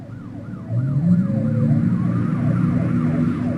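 Police sirens pass a house in the video game Payday 2, a loud wailing siren rising and falling in repeated sweeps over a low, steady traffic rumble, with no talking.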